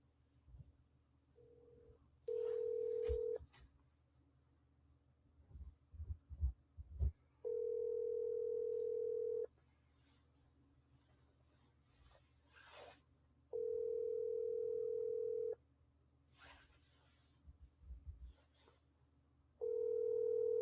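An outgoing telephone call rings unanswered: steady ringback tones repeat at regular intervals with silence between them, alongside faint clicks and handling noise.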